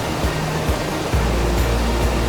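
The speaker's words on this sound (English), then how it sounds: "The main falls have 3 layers where water constantly plunges 15 meters down, crashing over rocks and limestone." Ban Gioc waterfall's three-layered main falls plunge fifteen meters over rocks and limestone, producing a loud, steady broadband roar of rushing, crashing water with no talk.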